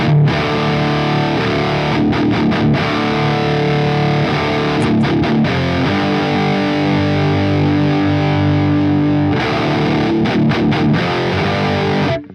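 A heavily distorted electric guitar, a Fortin NATAS pedal driving a Marshall JCM-2000 amp, chugs dense, loud rhythm riffs with brief palm-muted stops, continuous with no talking.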